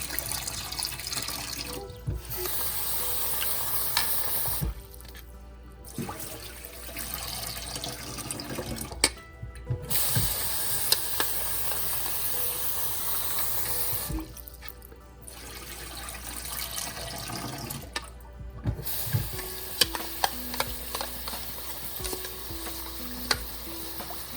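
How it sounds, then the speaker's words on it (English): Running water splashes steadily from a tap into a bowl of rice, with intermittent pauses and sloshing as the grains are stirred and rinsed until the water runs clear. "I'm washing the rice till the water runs clear"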